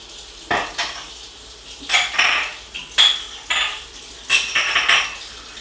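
Metal gas stove grates clank and rattle as they are set down into a sink one after another, several sharp ringing knocks with brief scraping and water sounds between them.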